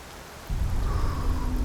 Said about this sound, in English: Okay. It's raining. Did you notice that?